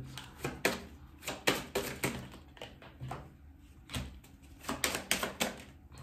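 Tarot cards are laid out one by one on a table in a series of crisp slaps and soft taps, irregular and close, with short pauses between groups and no talking.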